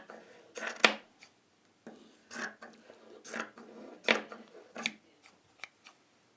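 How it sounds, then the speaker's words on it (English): Micro-serrated, side-bent dressmaking scissors snip repeatedly through fabric, a series of crisp, close cutting strokes with short pauses between them, quiet surroundings otherwise. "these are micro serrated side bent dressmaking scissors"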